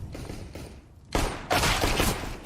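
Pistol fire in a Counter-Strike esports match, dense overlapping bursts of shots that swell suddenly loud after a quieter opening, without any talk.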